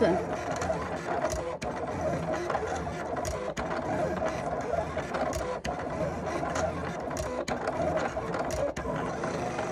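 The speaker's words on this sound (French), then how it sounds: "Donc nous en avons pour à peine 15 secondes de découpe" Silhouette Cameo cutting machine cutting a candy cane shape, a steady mechanical whir with rapid motor ticks and short clicking jolts as the carriage shifts, continuous and moderately close.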